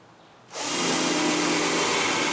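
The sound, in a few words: drilling dowel holes in wooden furniture parts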